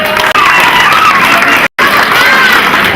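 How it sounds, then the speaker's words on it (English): Wedding guests clap and cheer loudly as the groom is called up for the speeches, a dense crowd roar with shouts and whoops that breaks off for two short silent gaps. "Round of applause please."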